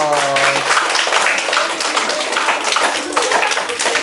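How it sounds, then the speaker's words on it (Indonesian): A classroom audience at a teaching-skills session claps steadily and densely for four seconds, a continuous close patter of many hands with no pauses. "kasih tepuk tangan dong"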